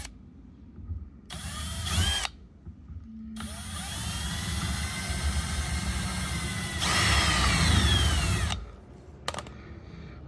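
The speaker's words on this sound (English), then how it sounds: "I'm just using standard drill bits" A power drill with a standard bit bores a hole in a carbon fiber front spoiler lip on a Lexus IS500, running in several loud, whining bursts separated by short pauses.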